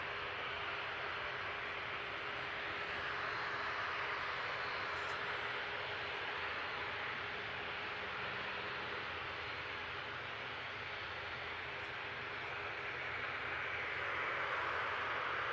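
A jet airliner passes near Manchester Airport, a faint, broad, steady roar of engine noise that holds evenly throughout and swells slightly toward the end, heard alone.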